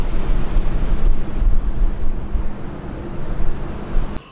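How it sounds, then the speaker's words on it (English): Wind buffets the microphone outdoors in cold rain, a loud, gusting rumble that surges and fades for a few seconds before cutting off abruptly. "cold rain and the wind"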